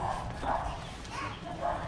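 Dogs bark at night in a street in Manila. Several distant, fairly faint barks come in bursts over a low background hum.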